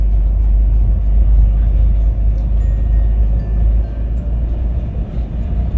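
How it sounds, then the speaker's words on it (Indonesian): A manual car engine gives a deep, steady rumble as the clutch is released slowly with gas, loud and close, easing slightly lower toward the end with no voices. "lepas kopling perlahan, diiringi dengan gas. Kemudian tambah gas pelan-pelan."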